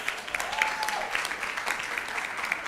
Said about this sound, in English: Men and women, kindly help me clap for the anchors.